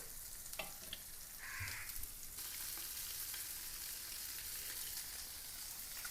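Fish coated in chili powder, salt, lemon juice and masala fries in a pan, a steady, fairly soft sizzle with a few brief crackles and pops, no voices.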